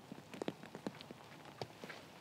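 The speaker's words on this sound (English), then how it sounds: "So the rain isn't too bad yet" Light rain falls on a disc golf course at the PDGA Champions Cup, with faint scattered drops pattering irregularly on surfaces nearby and no voices.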